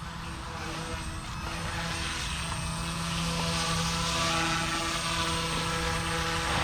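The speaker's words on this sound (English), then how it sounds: "I'm flying it pretty hard for a intermediate helicopter" A Blade 150 S radio-controlled helicopter's rotor and motor whine steadily, buzzing at a constant pitch throughout with a slight swell in loudness partway through.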